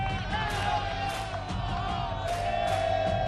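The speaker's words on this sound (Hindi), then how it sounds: "तालियों के साथ काशी की जनता का बहुत बहुत स्वागत हमारे साथ है।" A crowd of Kashi residents cheers at an outdoor gathering on the Ganges bank, a steady roar of voices and whoops under a presenter speaking.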